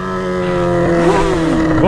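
A Yamaha XJ6 motorcycle engine revs loudly up close, its steady throttled drone rising and bending in pitch as the revs climb.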